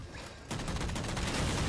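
Sustained rapid gunfire from Halo 4 capture-the-flag multiplayer, a dense burst of shots starting abruptly after a short quieter lead-in and continuing loudly to the end, no speech.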